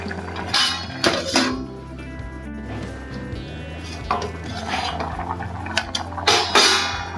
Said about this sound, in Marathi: आणखी थोड्या वेळ आणखी झाकण मारून ठेवूया